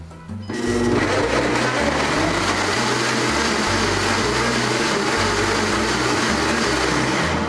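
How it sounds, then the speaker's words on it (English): Tomatillo salsa verde whirring in a blender, starting after a brief moment and running loud and steady to the end, its motor churning with a low rhythmic thump throughout. "And then we're just going to blend this up."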